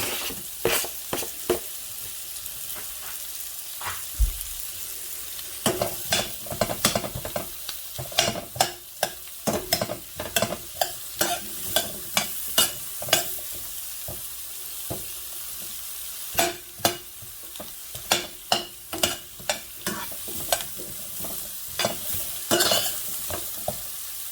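Onions fry in a pan before radish tops are added, with a steady sizzle beneath frequent sharp stirring scrapes and utensil clicks against the pan, close, busy and uneven, with no speech.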